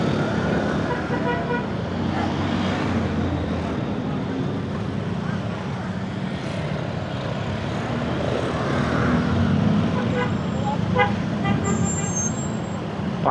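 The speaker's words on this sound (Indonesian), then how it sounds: "Panjang masih cuy macetnya." Weekend traffic jam near Pasar Terminal Cibadak in Sukabumi: idling and rumbling vehicle engines with a few short horn toots, a busy roadway mix heard from inside a moving car.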